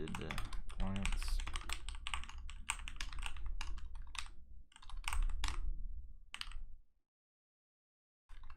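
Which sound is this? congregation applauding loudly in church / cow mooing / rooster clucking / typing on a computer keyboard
typing on a computer keyboard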